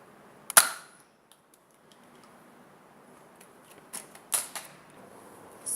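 Toy Nerf gun firing foam darts during a mock battle: a sharp snapping shot near the start, a few faint clicks, then another cluster of pops and clacks toward the end, close and fairly loud against quiet background.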